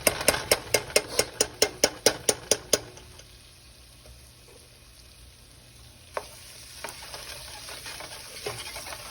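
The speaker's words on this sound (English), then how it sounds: "Stir the tomato paste around so that it can coat the vegetables." A spoon stirs tomato paste into oil and vegetables in a pan for beef stew, giving a quick run of about ten sharp clinks against the pan. A soft sizzle and a few scattered scrapes follow.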